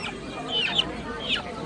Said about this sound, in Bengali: দেখুন দেখুন বন্ধুরা ছত্রিশ দিন বয়সের দেশি মুরগির বাচ্চা এখানে পেয়ে যাবেন